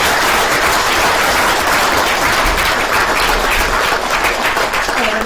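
Audience applause for COVID-19 healthcare workers, a loud, steady wash of many hands clapping together, continuous and close throughout.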